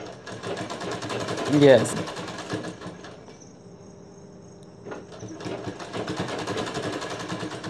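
A sewing machine stitching a blouse runs in short rapid bursts of steady mechanical whirring and ticking beneath close-up talking in Hindi, pausing briefly in the middle.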